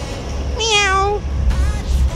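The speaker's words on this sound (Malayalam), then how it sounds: "എന്താ നമ്മളെ ഗസ്റ്റ് ആണ്, നമ്മളെ പൂച്ച." A domestic cat gives one clear, drawn-out meow, then a shorter second call, close to the microphone over a steady low background hum.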